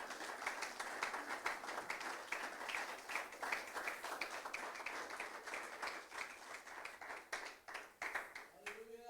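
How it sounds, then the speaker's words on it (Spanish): A church congregation claps along during a Spanish-language worship service, a dense, steady patter of many hands filling the room, with a voice briefly rising near the end. "Dale palmas al Rey en esta noche."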